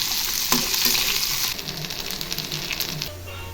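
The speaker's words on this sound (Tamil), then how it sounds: "ஒரு பெரிய தக்காளி கட் பண்ணது அதையும் போட்டு இதோட சேர்த்து நல்லா வதக்கிடலாம் நல்லா அது கொஞ்ச நேரம் எண்ணெயிலேயே நல்லா வதங்கட்டும்" A large chopped tomato sautés in hot oil for an okra curry, giving a steady, close sizzle and crackle with faint stirring scrapes throughout and no talking.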